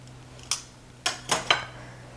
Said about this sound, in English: Now I'm going to put the lid on